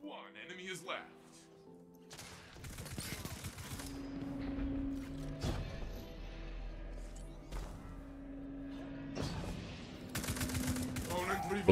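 Rapid bursts of Prosecutor auto rifle fire in a first-person shooter, several sustained volleys with short pauses between them, played over by a voice talking throughout.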